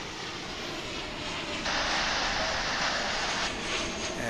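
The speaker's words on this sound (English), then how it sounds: "This is American Flight 2627. It's an A321 headed out to San Diego" An American Airlines Airbus A321 jet airliner gives off a steady, moderately distant engine roar, a broad continuous rush that swells slightly partway through and holds without any voices.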